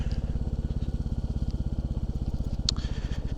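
A Royal Enfield Classic 350 single-cylinder motorcycle idles close by, a steady low thumping beat of regular rapid pulses, with a brief faint click near the end and no talking.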